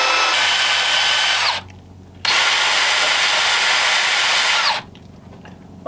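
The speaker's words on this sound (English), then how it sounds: "I think I'm going to go ahead and take these eyes out. I'll just use a die grinder bit." A die grinder bit whirs at high speed as it removes the eyes from a rotten latex zombie snail prop, with two long loud bursts separated by short pauses.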